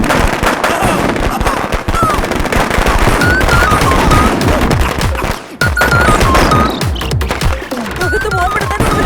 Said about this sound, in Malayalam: ആരെ പടക്കം പൊട്ടിച്ചേ?